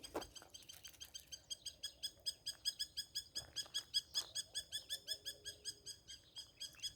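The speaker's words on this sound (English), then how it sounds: "bird flying over, chirping really loud" Rapid, repeated bird chirps pulse in a steady rhythm, fairly close and sharp, continuing throughout over a quiet background.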